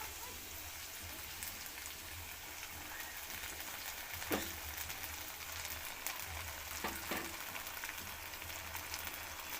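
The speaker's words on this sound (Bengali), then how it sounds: "পেঁয়াজ রসুনটা একসাথে একটু ভালো করে ভেজে নেব, লাল লাল করে।" Steady oil sizzle and crackle of onion and garlic frying throughout, with a couple of brief clinks of a utensil against the pan.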